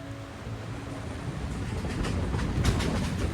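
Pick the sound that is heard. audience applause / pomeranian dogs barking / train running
train running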